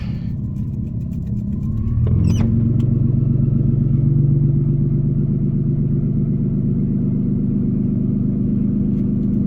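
A Nissan Maxima with a newly installed upgraded fuel pump is started after priming, catching at about two seconds and settling into a steady, loud idle rumble with no talking.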